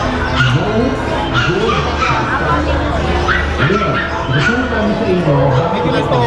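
Several dogs of a giant breed whimper and yip in high, rising cries, voices overlapping continuously, close and fairly loud with a low rumble underneath.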